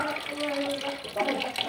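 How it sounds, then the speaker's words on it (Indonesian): Tap water runs steadily into a sink while beef is washed for a traditional rendang, a close splashing flow with a voice talking over it. "Ini sambil dialirkan airnya biar bersih ya, biar bersih dalam"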